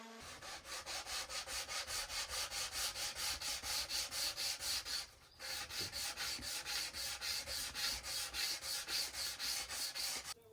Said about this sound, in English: Once the wood has had a chance to completely dry, we can give it its final sand up to 240.